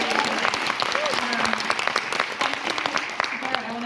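A studio audience at a panel talk with The Golden Bachelor cast and producers breaks into a sustained round of applause, dense clapping filling the room close and loud, with some voices mixed in.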